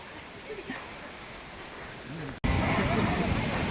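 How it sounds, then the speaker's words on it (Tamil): Strong wind blows through a village, a rough, roaring rush that swells and buffets the microphone, growing noticeably louder and harsher partway through as a gust hits. "இங்கே பாருங்க காற்று அடிக்கிற அடியை"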